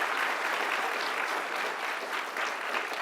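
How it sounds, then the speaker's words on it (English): A commencement audience claps steadily, dense sustained applause from a large crowd filling the hall from start to finish. "Give yourselves a round of applause really quick."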